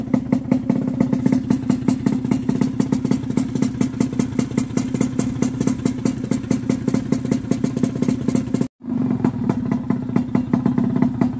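A Yamaha F1ZR two-stroke motorcycle engine runs hard at a steady 9000 RPM, a loud, continuous buzzing rasp with a rapid pulsing beat that cuts out briefly near the end before resuming.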